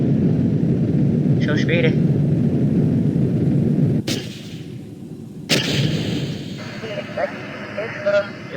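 Spacecraft parts bursting apart in a space-program video game, heard as two sharp explosive cracks under a steady rumbling engine roar, with brief speech near the start.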